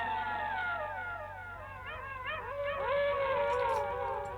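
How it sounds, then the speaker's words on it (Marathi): A dog howls at night, several long rising and falling wailing notes overlapping in a siren-like chorus, loud and sustained with no talking. "कधी कुत्र्याचाच आवाज यावा"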